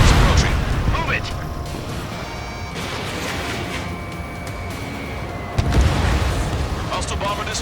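A bomber explodes in the jet combat game Ace Combat 7, giving a loud rumbling boom that rolls and decays, then a second sharp blast near the end. Continuous jet roar and radio voices run underneath.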